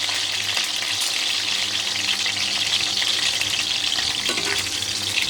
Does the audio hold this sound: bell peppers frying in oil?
yes